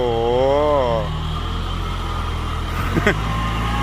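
A Toyota dump truck engine revving hard nearby, its pitch wavering up and down for about a second before settling into a steady rumble, with a short sharp clatter near the end.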